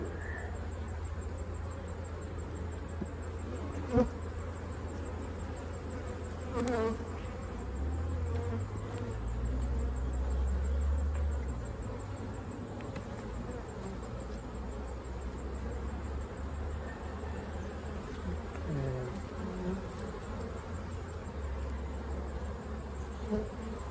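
Honey bees in an opened hive make a steady, dense buzzing throughout, with a few faint knocks and handling noises and no talking.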